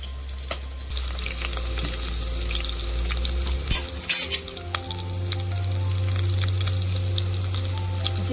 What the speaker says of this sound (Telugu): కొంచెం ఇంగు వేస్తున్నాను.